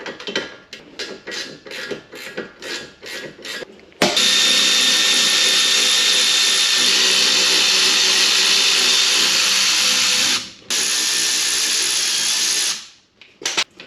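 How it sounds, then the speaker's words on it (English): A few short bursts of a power tool, then a loud continuous whine running steadily for several seconds, briefly cutting out before starting again, during a coilover suspension install on a Porsche 997 Turbo in a garage. "Having power tools does make this job go a little bit faster."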